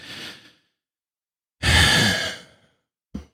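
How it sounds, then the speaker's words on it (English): A big deep breath during a tapping exercise: a short exhale, a pause, then a strong full breathy sigh close to the microphone lasting about a second, followed by a brief soft breath sound. "take a nice big deep breath"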